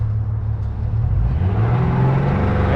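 Jet boat with a tiller-steered F250 outboard on a 2018 Alumiweld 23 Super V, put in gear, a steady low motor rumble and whir running continuously, close and moderately loud.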